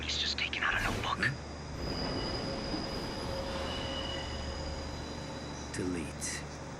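Steel train wheels squeal in a high, steady whine as a carriage brakes in an anime scene, with a rumbling rail roar underneath and brief soft voices near the start and end.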